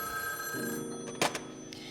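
A telephone bell rings as a sound effect, giving a steady tonal ring with a few sharp bright strikes near the end. The ringing is moderately loud and heard alone.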